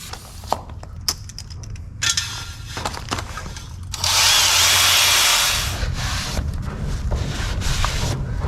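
A power tool grinds inside an engine cylinder, a close, harsh whirring burst that rises sharply midway and sustains for a couple of seconds, surrounded by scraping, handling clatter and shorter tool bursts, with no talking.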